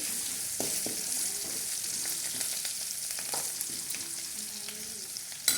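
Garlic paste sizzles and fries steadily in a hot pan while chickpea snack is being cooked, a continuous close crackle with faint stirring clinks throughout.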